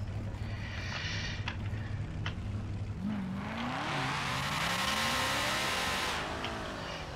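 Car burnout in FiveM street racing, an engine revving with rising and falling pitch sweeps and a broad hiss of tire smoke building mid-way, fairly close and sustained.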